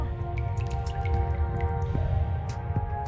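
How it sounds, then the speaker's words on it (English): Water drips from a ceiling near a window in the game Reverse: 1999, a few soft, irregular plinks over a steady ambient hum. "Water keeps dripping"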